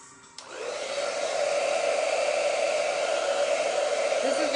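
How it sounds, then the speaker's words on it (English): A hair dryer blows steadily at close range while drying a wet chalkboard after its surface is touched up, switching on with a click and holding a continuous airy whine. "Let me hit it with the blow dryer again."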